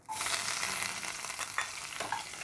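Onions hit hot oil with a mustard seed, cumin and urad dal tempering for idli upma, giving a bright close sizzle that starts abruptly and continues with a few stirring scrapes, and no one talks.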